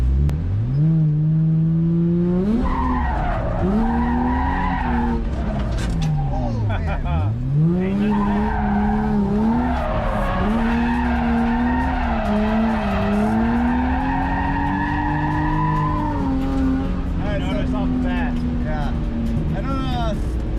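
A Nissan 350Z drift car slides with long, wavering tire squeals over a droning engine that rises and falls, the pitch sweeping as the car changes angle, while people talk over it.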